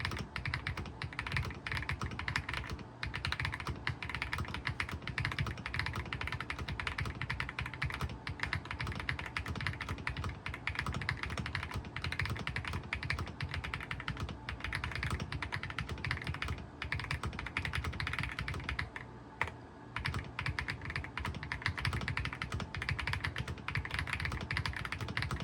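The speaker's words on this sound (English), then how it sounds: "So that was a little bit of a typing demonstration." Continuous steady typing on a K98 Pro wireless mechanical keyboard, dense clacking keystrokes with no pauses, close and alone with no voices.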